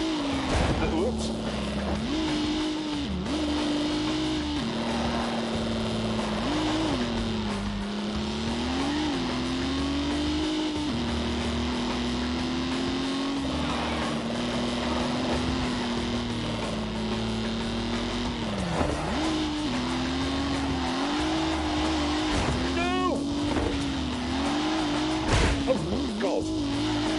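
A car in The Grand Tour video game drives hard, its engine droning steadily with rising and falling pitch as it accelerates and shifts, with occasional tire noise, under continuous commentary.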